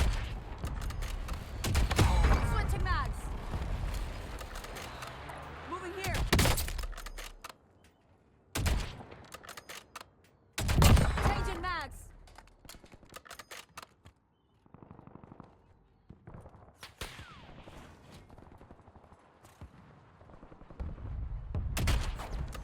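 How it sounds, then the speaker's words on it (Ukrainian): Bursts of Warzone video game gunfire, rapid automatic volleys and single sniper shots, loud and repeated with brief quieter gaps between. "ще хтось стріляє, вже ще один снайпер завівся"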